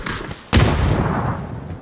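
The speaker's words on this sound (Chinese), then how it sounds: "打两枪，这大炮打两枪子" Gunfire in a video game bursts out loud and close, with a sharp blast followed by booming, rumbling reports and noisy echoes filling the rest of the moment.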